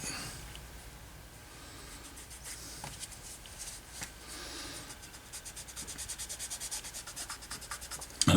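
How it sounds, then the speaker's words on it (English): Close, steady sanding strokes on the handle of a vintage tool chest, a dry rubbing scrape that repeats in quicker, more even rhythm toward the end, with no talk over it. "now these will generally take 2 or 3 sandings"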